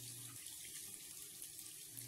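Water runs steadily from a faucet into a sink, a continuous close splashing hiss with a faint low hum at the start and end.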